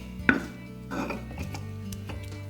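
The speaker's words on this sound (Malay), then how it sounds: "Tekan 4 ulas bawang putih yang mentah dekat olekkan ni sampai lumat." Four raw garlic cloves are pounded in a mortar and pestle, giving a few close, dull thuds at irregular intervals with a faint crunch between strikes.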